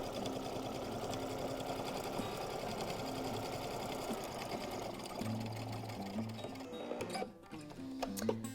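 A sewing machine stitches through thick denim jeans fabric, a steady close mechanical whir with a rapid needle rhythm that runs continuously, slowing and shifting pitch toward the end.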